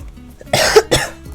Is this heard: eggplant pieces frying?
no